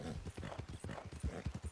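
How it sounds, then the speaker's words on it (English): Horse hooves clip-clopping in an outer-space role-playing video game, a quick run of close, fairly loud hoof falls in an uneven rhythm. "I'm about to run over my own horse."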